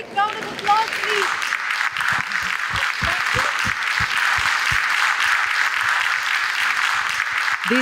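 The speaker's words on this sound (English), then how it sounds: "A big round of applause, please." A crowd applauds volunteers gathered on stage at a vegetarian congress in the Middle East, with steady, dense clapping that holds throughout at close range.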